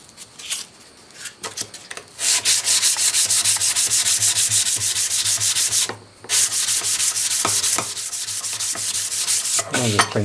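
Sanding rust off a 1950s Record No. 4 hand plane iron of tungsten vanadium steel made in England, loud rhythmic abrasive rubbing strokes in quick succession with a short pause midway and sporadic scrapes near the end.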